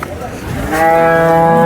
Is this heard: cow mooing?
yes